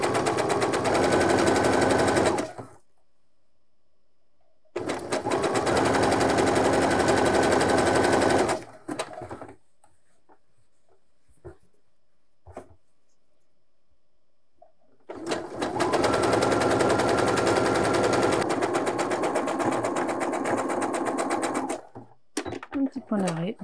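A sewing machine stitching along the curves of fabric, loud rapid whirring runs in three separate bursts of a few seconds each, with quiet pauses between them.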